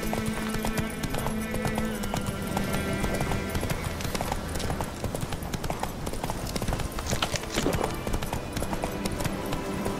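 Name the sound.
horse galloping hooves in video game The Witcher 3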